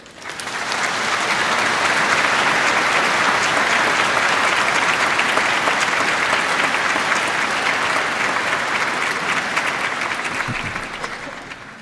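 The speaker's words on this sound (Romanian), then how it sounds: "Aplauze pentru Maria!" Warm, sustained applause from a cathedral audience after a Christmas carol concert by a youth choir in Iași, swelling in quickly and holding as a dense, even roar of clapping before tapering at the end.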